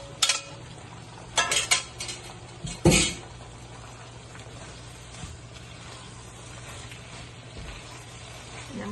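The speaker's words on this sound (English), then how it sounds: "And now I'm gonna put the pasta in." Pasta goes into a pot of cooked mixed vegetables, with a few close scraping and clattering stirs of a utensil against the pot early on, then a quiet low simmer without speech.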